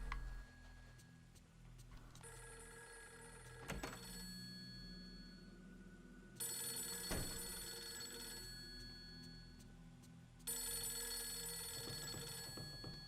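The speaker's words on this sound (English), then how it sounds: "Oh, I heard a phone." A rotary telephone rings in the video game Fatal Frame III, three long bursts of bright bell ringing separated by quiet pauses, with faint clicks and ambient tones between.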